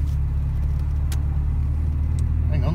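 A Humber Sceptre car pulls away normally, heard from close by as a low, steady engine rumble with a couple of brief clicks on top.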